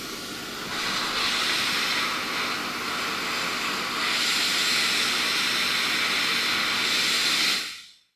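Hot air rework station blowing at a high airflow setting of 120 while trying to remove a part from a faulty docking station, a steady close hiss that starts after a second and stops abruptly near the end.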